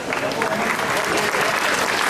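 Crowd applause at a village fig fair award presentation, a thick burst of clapping with a murmur of voices beneath, fairly loud and continuous.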